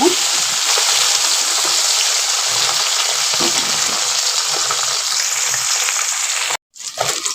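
Kholisha fish frying in hot oil in a pan, a steady loud sizzle running almost unbroken with faint scraping, cut briefly by a short silence near the end before the crackle returns.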